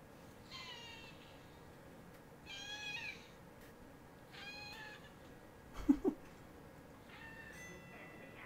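A cat meows several times in short, separated calls, fairly close, with a brief sharp thump partway through and quiet background between.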